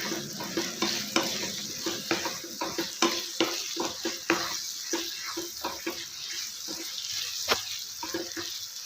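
Papaya halwa with cardamom powder stirred in a pan: close, repeated scraping strokes in an uneven rhythm over a soft sizzle, with no talking.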